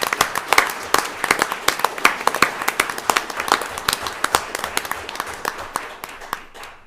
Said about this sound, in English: Let's give our police department a round of applause